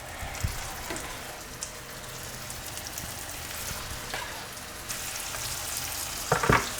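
Beef patties fry in butter in a hot pan, a steady soft sizzle and crackle filling the whole stretch with scattered pops and a few clinks near the end.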